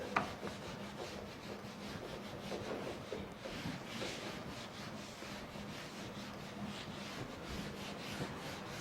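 A board eraser rubs out chalk writing on a board, a continuous faint scratchy rubbing that goes on steadily without pause.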